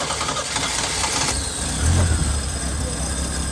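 Chevy K10 squarebody pickup engine running after a choke-assisted start, a steady loud engine rumble that swells briefly near the middle before settling into idle, with a person speaking over it.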